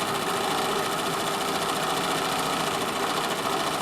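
An overlocker sewing machine overlocks fabric in one continuous, fast, even mechanical whir, close and steady throughout, with no talking.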